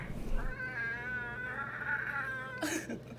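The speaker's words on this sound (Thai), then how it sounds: "แมวของคุณกำลังอยู่ในโหมดต่อสู้ อย่าเพิ่งไปกวนเขาสิ" A cat lets out a long, drawn-out wavering yowl, close and fairly clear, ending with a brief sharper cry.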